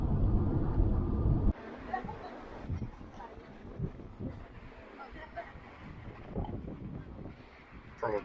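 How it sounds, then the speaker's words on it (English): Wind buffets the microphone beside Mirror Lakes in New Zealand, a heavy low roar at the start that eases into gusty rumbling, with a voice speaking through parts of it. "Probably too windy."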